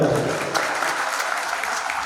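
Steady applause from a crowd at a community youth gathering in a hall, a dense wash of clapping that holds at an even level for about two seconds.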